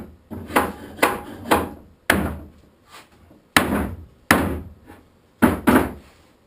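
A 3-pound long-handled maul knocks a workbench with plywood parts into place: about seven sharp, close wooden thuds in uneven groups, each ringing briefly before dying away into quiet.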